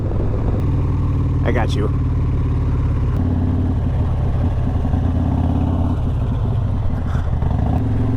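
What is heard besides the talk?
Honda Grom small motorcycle riding past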